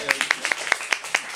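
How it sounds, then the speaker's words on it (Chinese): Scattered, uneven handclaps from a small audience at a performance of an Amis song, about eight sharp claps in under two seconds, bright and fairly close. "给他掌声一下"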